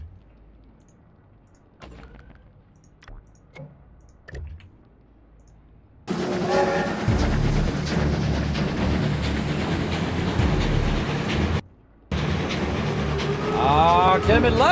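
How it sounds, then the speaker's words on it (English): A stream alert for a Love Train plays during a Fallout Shelter stream. Faint clicks give way to a loud, sustained rumbling, clattering train-like effect that cuts out briefly and resumes with a rising whistle-like tone. "Kismet Love Train firing off."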